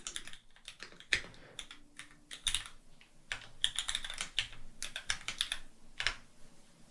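Typing on a computer keyboard while writing Swift code in Xcode, a close, irregular run of clicky keystrokes with short pauses, heard alone without talk.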